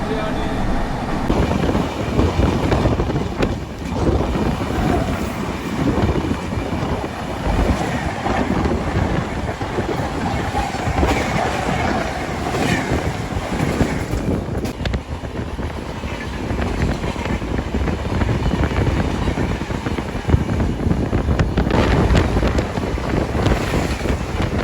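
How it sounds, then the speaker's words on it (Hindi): The Vivek Express runs fast, heard from inside a sleeper coach: a continuous loud rumble and rattle with rushing wind buffeting the microphone, and a voice speaking over it. "अपनी ट्रेन इस टाइम पे देख लो कितनी चल रही है, 115"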